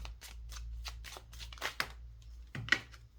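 Tarot oracle cards are handled and shuffled in a series of quick, crisp riffling swishes and soft slaps, close up and quiet, with no talking.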